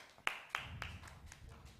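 Audience clapping at a media literacy hackathon pitch day, a few sharp, separate claps that thin into faint, scattered patter, fairly quiet and distant in a room.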